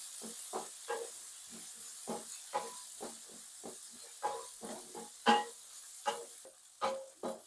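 Chili, tofu and vegetables for sayur lombok sauté in a pan with a soft steady hiss, broken by frequent scraping stirs of a spatula at a quiet, close level.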